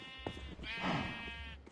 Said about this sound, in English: I want a sheep that I can reasonably dye.